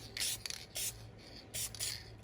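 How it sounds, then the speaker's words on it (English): Spray paint hisses from an aerosol can in several short bursts, misting black onto the edges of a car door panel. The bursts come up close with brief pauses between them, over a low steady hum. "We're going to spray this one black too."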